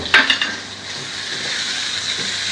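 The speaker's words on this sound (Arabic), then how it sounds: "ننزل بالبصل والفلفل اهو، نديهم تشويحه لحد ما تدبل" Onions and peppers sautéing in butter in a pan, giving a steady close sizzle after a couple of brief scraping knocks at the start.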